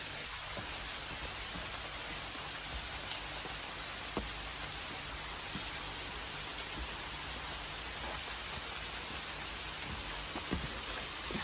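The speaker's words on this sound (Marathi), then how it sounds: "इथून पाऊस बघायला काय मजा येईल." Rain pours outside a room at The Machan resort as a faint, steady, even hiss, with occasional sharper drips and taps standing out.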